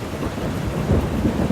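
Heavy rain pours down with low rolling thunder, a dense, loud, continuous roar whose deep rumbling swells toward the end.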